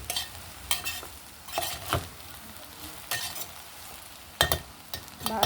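Foxtail millet upma being stirred in a pan, with repeated scraping and clinking spoon strokes against the metal over a soft background hiss.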